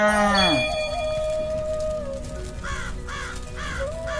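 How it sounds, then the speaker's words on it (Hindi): A cartoon crow caws loudly three times in a steady rhythm, after a sliding tonal sweep and a sustained whistle-like tone at the start. "अचानक टुनटुनी चिड़िया को एक कौवे की आवाज आती है"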